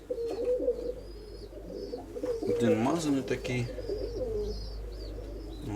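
Pigeons coo softly and repeatedly inside a loft, low rolling calls with a few high chirps above, while someone talks over them in Ukrainian.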